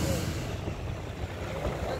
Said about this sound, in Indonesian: ketika ini masuk bus Kupu-Kupu Ayu Inferno Emperor. Jurusan Wonosobo Tangerang.